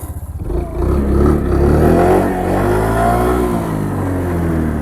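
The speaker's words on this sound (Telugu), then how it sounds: "ఒకసారి ఇంజన్ కండిషన్ కూడా స్టార్ట్ చేసి చూపిస్తాను మీకు" A used Suzuki Access 125 scooter engine starts with a brief cranking stutter, then settles into a steady, fairly loud idle close by, running smoothly without anyone speaking.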